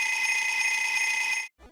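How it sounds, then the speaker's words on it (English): A ringing alarm clock effect from a Kirby video game, left over from Nightmare in Dreamland, rings as a steady, bright, continuous metallic trill for about a second and a half, then cuts off sharply with a brief low thump after. "We got it all here, from a ringing alarm clock"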